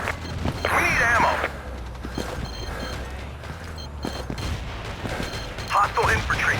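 Artillery fire and gunfire in Battlefield 2 multiplayer, distant booms and scattered shots rolling under radio-style voice callouts, with bursts of crackling impacts at the start and near the end.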